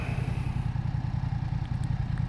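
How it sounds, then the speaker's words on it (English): A 2020 BMW F900 XR motorcycle idles close by with a steady low engine pulse and light mechanical clatter as the rider shifts through the gearbox looking for neutral. "Let's see if I can find neutral."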